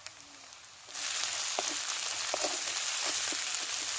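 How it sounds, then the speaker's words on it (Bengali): Garlic, ginger and cumin paste frying over onions in hot oil: a steady, loud broadband sizzle that jumps up after a quiet first second and holds, with scattered crackles and pops. "মশলাটা ভালো করে ভেজে নিয়েছি"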